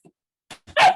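A hot dog gives a faint yip, then after a pause a short whimper and one loud close bark.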